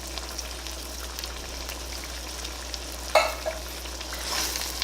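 A tomato sauce for a Ghanaian-style fresh mackerel and vegetable dish frying in a pan, a soft steady sizzle with a few sharp scrapes of a spoon stirring partway through, fairly quiet and without talk.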